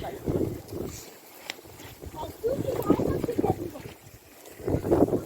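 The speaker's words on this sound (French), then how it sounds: "En saupoudrant parce qu'il y a du vent" Gusty wind buffets the microphone in low rumbling bursts while people talk nearby outdoors at a straw-and-earth insulation building site.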